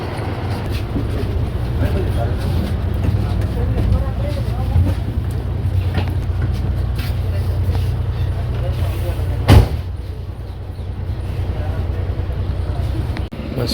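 A bus pulls up and idles with a steady low engine rumble, close by and continuous, at an early-morning roadside stop. Faint voices are heard now and then, and there is one brief knock near the end.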